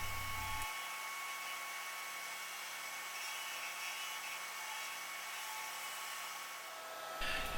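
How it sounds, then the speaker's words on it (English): A disc sander shaping a wooden crankbait lure gives a steady high whirring hum with a bright grinding hiss, close and unbroken, and a louder burst of contact right at the end. "I'm just going to use my new best friend, aka the disc sander."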